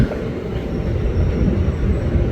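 A ten-car KRL commuter train bound for Tangerang pulls into track 5 at Duri station. It makes a steady, close, low rumble of wheels and carriages that fills the whole stretch.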